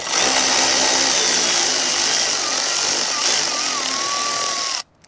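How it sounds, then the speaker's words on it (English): Power tool whirring steadily as it backs out snorkel mounting bolts near an auxiliary light beam on an off-road vehicle, a loud continuous close-up drone with a rising whine, cutting off abruptly at the end. "there's 2 more bolts you're gonna have to take loose here"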